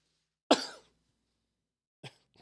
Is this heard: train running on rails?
no